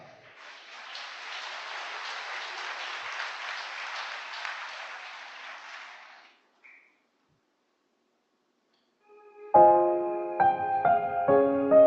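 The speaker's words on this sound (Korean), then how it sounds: "따뜻한 박수로 맞이해주시기 바랍니다" Warm audience applause welcoming a choir at a church event, a steady broad clapping that lasts about six seconds and then stops, followed by silence and the start of piano music.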